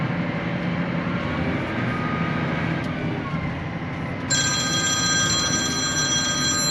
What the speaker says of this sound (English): Probably the worst time to get a phone call is right now.